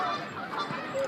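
Swans give short nasal honks, a couple of brief calls close by over a faint background, with no talk.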